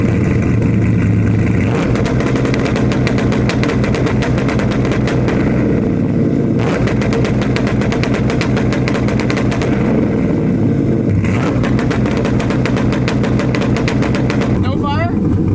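An LS1 V8 in a Silverado sits on a 2-step launch limiter set at 2,500 rpm, holding a loud rapid stutter of bangs. It drops out briefly, then returns in bursts, with voices talking close by.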